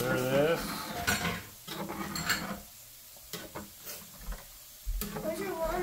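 Three cups of milk stirred in a pot with a utensil, soft scraping and clinks near the mic, broken by voices of an adult and someone talking.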